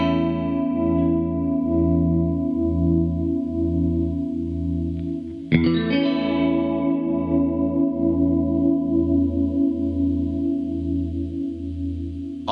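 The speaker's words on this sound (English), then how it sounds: "now you can use the space knob to add in some reverb from Keeley's Abbey Chamber Reverb" Guitar played through a Keeley Seafoam Plus chorus pedal with reverb added: sustained chords shimmer and swirl with slow wavering modulation, a fresh strum midway rings out with a long, washy tail, with no talking.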